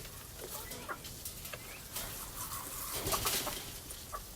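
A backyard flock of chickens clucks softly over mealworms, with faint scattered bird calls over a steady background hiss and no talk.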